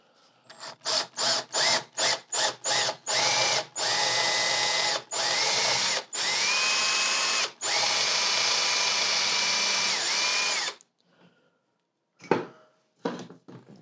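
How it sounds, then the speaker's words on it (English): A power drill drills into the wooden pickup cavity of a semi-hollow guitar body in short repeated bursts, then several longer sustained runs, close and loud, followed by a few faint clicks and a sharp knock. "I could drill it into the cavity straight"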